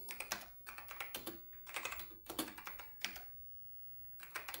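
Bursts of clicky typing on an Apple II Plus computer keyboard, quick keystrokes in short runs separated by brief pauses, close and fairly quiet.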